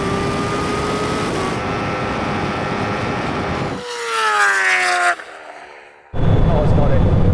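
Drag race between a Ducati Panigale and a Kawasaki H2R motorcycle against a Bugatti Chiron, with a loud engine note climbing through gear changes, a sharp high rising whine as a machine passes close, then a sudden drop and a burst of noise.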